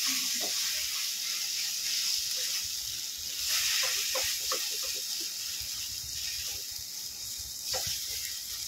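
Grated boiled potato frying with spices in a pan over low gas, giving a steady close sizzle and hiss that runs throughout with a few soft stirring clicks.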